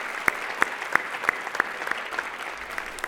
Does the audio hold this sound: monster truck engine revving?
no